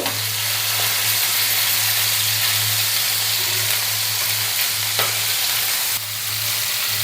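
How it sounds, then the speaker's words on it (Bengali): Chicken pieces frying on a high flame for chicken changezi, a loud, continuous close-up sizzle with a steady low hum underneath and occasional faint scrapes, no voices. "চিকেনগুলি এক এক দিকটা হাই ফ্লেমে দু মিনিট করে ভেজে নেব তারপর ঘুরিয়ে দেব"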